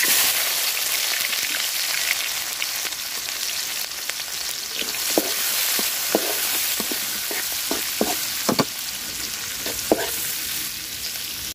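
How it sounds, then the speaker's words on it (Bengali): Onions and chili sizzling in the oil left from frying fish, a close, constant crackle with scattered sharp ticks from stirring, and no one speaking. "ভাজার তেলে আমি পেঁয়াজ আর মরিচ দিয়ে দিলাম।"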